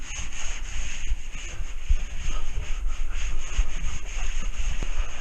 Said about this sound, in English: once I go over it with the sponge